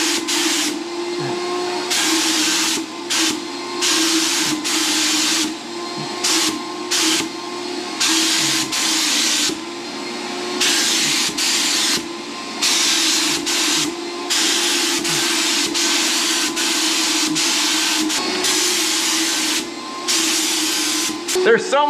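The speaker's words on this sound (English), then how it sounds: "Sprayer back on." An airless paint sprayer coats a deep, jagged rock fireplace with finish: close, loud hissing bursts start and stop in an irregular rhythm over a steady motor hum.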